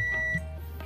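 A multimeter continuity buzzer sounds a short, steady electronic tone while probing a shorted component in a switching power supply, starting loud and then fading to a lower hum, with no speech.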